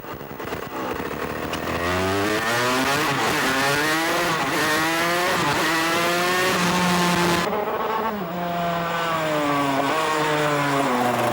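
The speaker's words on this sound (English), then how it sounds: "Out on the track, this is a mega little kart, and it's nothing like the classic two-stroke." A gearbox racing kart being driven on a track, its high engine note loud and close, rising and falling through gear changes in repeated sweeps across about eleven seconds.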